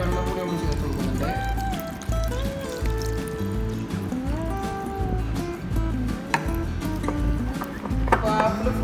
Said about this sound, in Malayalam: നമുക്ക് ഇതിലേക്കായിട്ട് കുറച്ച് വെള്ളം കൂടി ചേർത്ത് കൊടുക്കാം.